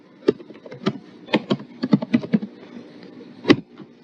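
Someone types a note on a computer keyboard: a run of close, crisp key clicks in irregular bursts, with a firmer tap near the end and no talk.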